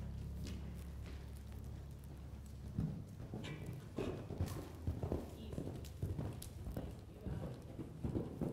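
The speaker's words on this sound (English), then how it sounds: "So right now, that's not really a good canter to jump from." A horse canters at a show-jumping clinic, its hoofbeats thudding in quick repeated groups on soft footing, close and clear, with an instructor talking over them.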